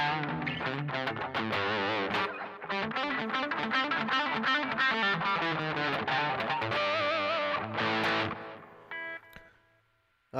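A Gibson 339 electric guitar played through an LP 87 pedal chugs out heavy distorted metal riffs with fast palm-muted rhythms and sustained chords, loud and close, ending in a fading ring-out with no talking.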